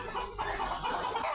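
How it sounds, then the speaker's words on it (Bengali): Young desi roosters, hatched in an incubator, cluck in a brief, continuous close-up burst of overlapping calls. "এই যে এগুলো হচ্ছে দেশি জাতীয় মোরগ, এগুলা বাচ্চা মোরগ।"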